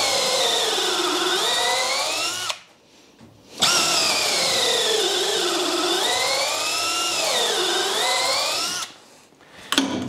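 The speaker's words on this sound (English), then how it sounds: "I'm just going to pre-drill these with a 6 mil or quarter bit." A power drill with a 6 mm bit whines loudly and continuously, its pitch dipping and rising as it pre-drills wood for long screws, with two brief pauses between runs.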